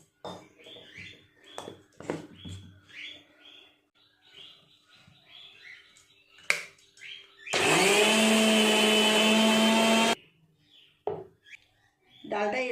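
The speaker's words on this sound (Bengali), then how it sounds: "এই ডালগুলো আগে বেটে নেব এর মধ্যে দুটো লঙ্কাও নিয়ে নেব অল্প একটু জল দিয়ে সুন্দর করে মিহি করে পেস্ট করে নেব" A blender grinds lentils, two green chillies and a little water into paste in one loud, steady whirring burst of about two and a half seconds, with quieter chirpy voice-like sounds before and after.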